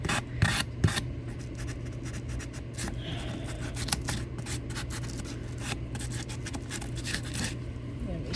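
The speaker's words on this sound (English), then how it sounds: "do a little bit of sanding on this" Sandpaper is rubbed back and forth by hand across an unfinished wood piece, giving repeated close scratchy strokes in an uneven rhythm over a low background hum.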